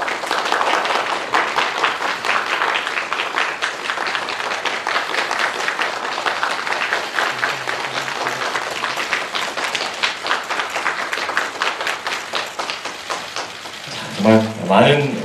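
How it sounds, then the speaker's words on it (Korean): Steady crowd applause at a Korean appointment ceremony for a singer, a continuous close patter of clapping that runs for most of the clip before a voice speaks near the end. "다시 한번 박수 부탁드리겠습니다"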